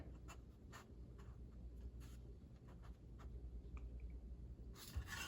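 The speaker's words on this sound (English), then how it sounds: "And then I'll draw a straight line, straight as I can anyway." A marker or scribe draws a straight line on metal while making a grill support bracket for a 1965 Ford Galaxie, giving soft close scratchy strokes in short bursts over quiet background hum.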